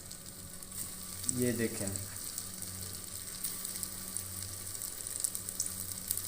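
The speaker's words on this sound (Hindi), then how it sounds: "बहुत ही मज़ेदार क्रिस्पी कबाब हमारे रेडी हो रहे हैं।" Crispy mixed vegetable kebabs fry in a pan, a steady soft sizzle running throughout with a brief louder burst of sputtering near the start, and a short spoken remark over it.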